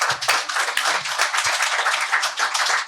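Dense, continuous audience clapping, loud and close, with many overlapping hands sustained throughout during a live comedy podcast recording.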